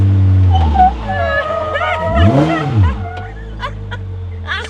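An Ariel Nomad off-road car's engine revs up and down in loud, sweeping surges, with a high whine rising and falling as it rushes past bumps on a dusty off-road course.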